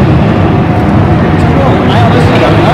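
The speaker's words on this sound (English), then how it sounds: "it's supposed to neutralise the sound of the traffic" Road traffic rolls past near an outdoor sound sculpture, making a continuous broad roar that stays loud and steady, with faint murmuring voices in the background.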